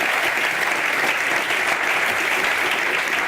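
A crowd claps loudly and continuously after a talk, a dense, even wash of applause from a large audience with no voices over it.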